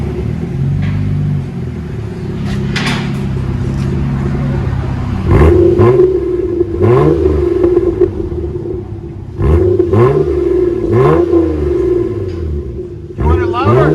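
A Toyota Camry 3.0L V6 with a straight-pipe exhaust and DC Sport tip, revving hard in repeated loud blips over a deep burbling idle, close by, with people talking over it.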